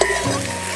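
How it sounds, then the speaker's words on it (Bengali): Sizzling in a pan as chopped green chilies drop onto frying loita (Bombay duck) fish, a steady close hiss with a brief stir-like disturbance early on, no voices. "দিয়ে দেবো কুচানো লঙ্কা।"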